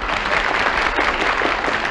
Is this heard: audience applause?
yes